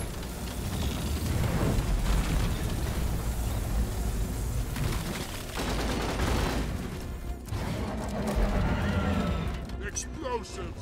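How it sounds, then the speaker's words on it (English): Explosions and heavy gunfire rumble almost without a break in the co-op mining shooter Deep Rock Galactic, with dense booms and mechanical clatter. A voice talks over the chaos throughout. "Explosives, bombs!"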